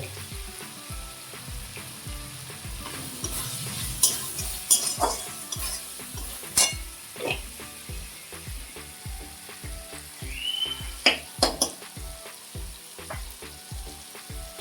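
Spice masala with chili powder, green chili paste and a little water fries in a pan, a soft steady sizzle broken by repeated scrape-and-stir knocks of a spoon.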